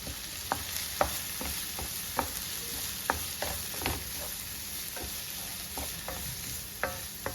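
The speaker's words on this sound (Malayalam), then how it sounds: "സവോളയുടെ പച്ച ചുവയൊക്കെ ഒന്ന് മാറി വരുന്നവരെ നമുക്കൊന്ന് ഇളക്കി കൊടുക്കാം" Finely chopped onions fry in a pan for vada pav, a steady sizzle broken by sharp, irregular clicks and scrapes of a spoon stirring, close and clear with no talking.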